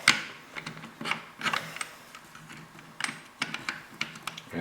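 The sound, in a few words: bolt sliding into Mossberg TR500 rifle receiver grooves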